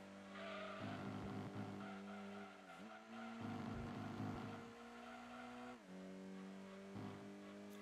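A front-wheel-drive car in the Gran Turismo 2 racing game revs hard through its gears, the engine note rising and dropping with each shift while tires squeal and skid through corners, steady and continuous with no voices.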